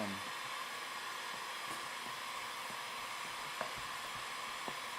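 A heat gun blows a steady, hissing stream of hot air over a side number plate graphic on a 2017 Honda CRF450 motorcycle, continuous and close, with a few faint ticks beneath it.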